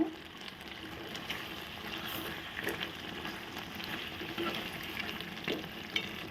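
Country chicken curry with salt and chilli powder sizzles and simmers in a pan, a steady close frying hiss with faint stirring scrapes and small bubbling pops, no talking.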